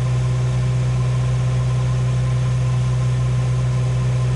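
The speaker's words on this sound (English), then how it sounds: "Sorry about the sound, the motor's right here." A sailboat's motor runs close by, a steady loud idling drone with a strong low hum and constant mechanical vibration, unbroken for the full few seconds with no talk over it.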